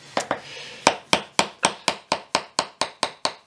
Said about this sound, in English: I'll just get the hammer, tap the end off the screwdriver, and drive it in underneath the nail